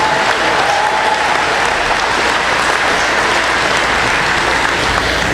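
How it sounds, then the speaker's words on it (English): Loud, dense applause from a large commencement crowd at a college graduation, a steady wash of clapping that holds at full strength throughout without talk over it. "That deserves a round of applause."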